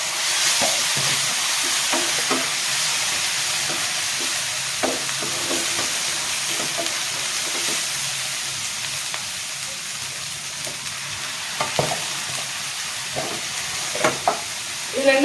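Prawns fry in a pan with salt and ginger garlic paste for a prawn thokku, giving a steady close sizzle and hiss with occasional light stirring scrapes.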